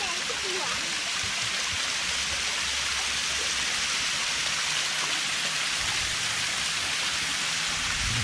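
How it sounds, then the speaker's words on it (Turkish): A natural waterfall at Pamukkale sends up a steady, close rush of falling water that holds without a break, with faint voices under it. "Doğal şelale."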